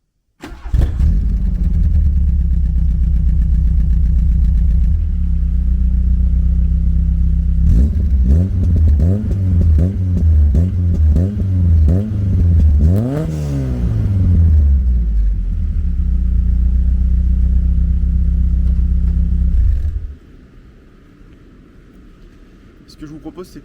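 A Volkswagen Golf 1 GLI with a 1.8-litre 112 hp engine cranks and starts, settles into a steady idle, then revs up and down several times in rising and falling sweeps before returning to idle and shutting off.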